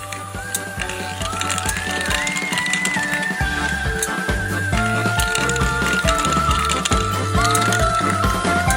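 A space-themed galaxy marble machine runs with a steady mechanical clicking and rolling rattle under a bright, rising melodic tone, continuous and fairly loud throughout.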